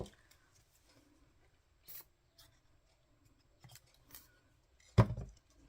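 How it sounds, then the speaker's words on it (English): Scissors snip paper card pieces in a few short, separate cuts, quiet and close, with the last snip sharper and louder and long stretches of near silence between them. "so I'm going to cut some of that off."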